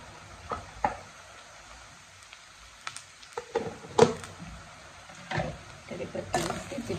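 Curry leaves hit hot oil with browned onions in a pan, giving a quiet, steady sizzle broken by scattered scraping clinks of a spoon stirring, close by and fairly soft.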